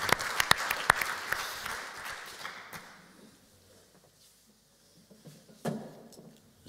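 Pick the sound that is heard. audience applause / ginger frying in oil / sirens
audience applause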